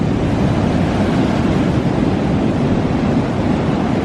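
Ocean surf breaks on the shore during a strong swell, a loud, dense roar of broadband wash, close and steady throughout with some wind buffeting the microphone and no talk.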